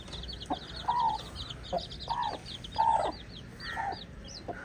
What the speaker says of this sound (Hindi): हमारी मुर्गी अपने बच्चों को लेकर यहाँ पे एंजॉय कर रही है